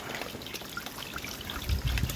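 Spring water trickles and dribbles beside an Exmoor bridleway, a close, bubbly patter of small splashes and gurgles that thickens briefly near the end, with no talking.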